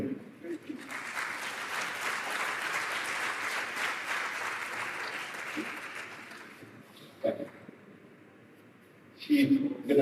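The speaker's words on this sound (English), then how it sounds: "give her a round of applause" Applause from an audience at a keynote speech during a tech innovation week event in Penang, a broad sustained clapping wash for about seven seconds, fading out, followed by brief bursts of nearby talking.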